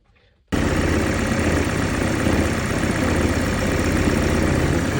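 A BMW 330e engine idles unevenly with misfires, a steady close rumble that starts abruptly after a brief quiet moment and carries on without any voices.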